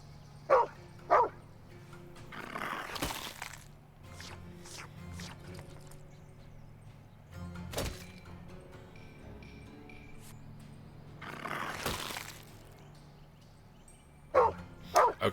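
A dog in the turn-based fantasy video game Crown Gambit gives a couple of short barks at the start and again at the end, with game sound effects and music running between them.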